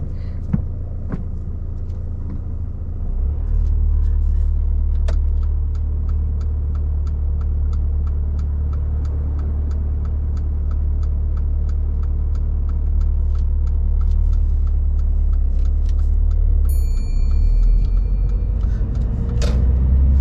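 Steady low engine rumble from a car under way on a driving test, constant and fairly close, with a faint ticking like an indicator and occasional light knocks inside the cabin.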